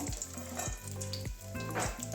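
Papad frying in hot oil until reddened on both sides, giving a steady bright sizzle with crackling bursts and low rhythmic bubbling, close and continuous, no voices.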